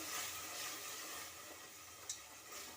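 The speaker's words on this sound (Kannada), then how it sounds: "ಇದು ಒಂದೆರಡು ನಿಮಿಷ ಎಣ್ಣೆಲಿ ಫ್ರೈ ಆಗಬೇಕು ಹಸಿ ವಾಸನೆ ಹೋಗೋವರೆಗೂ ನಾವು ಇದನ್ನ ಫ್ರೈ ಮಾಡ್ಕೋಬೇಕಾಗತ್ತೆ" Spinach paste for palak rice sizzles quietly in hot oil, a soft, steady hiss with faint stirring scrapes and one small clink.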